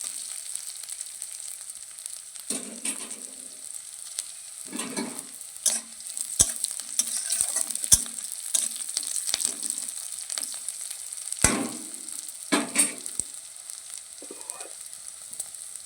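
Green chillies frying in a pan of oil for a cauliflower fish curry: a steady close sizzle with intermittent stirring scrapes and clinks, no voices.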